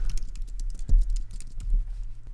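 Computer keyboard typing while text is entered in Canva: a quick, steady patter of light key clicks with one slightly heavier tap, close and alone, no voice.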